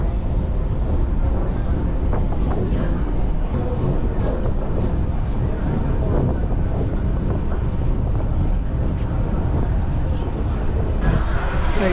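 A suburban electric train pulls into Saidapet railway station in Chennai, with a steady loud rumble and wind-buffeted rattling that continues throughout, recorded close from on board.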